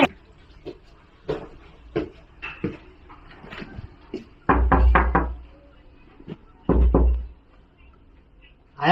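Knocking on a door in a home, heard as scattered raps and then two louder, heavy bursts of pounding close by, with some talk in between.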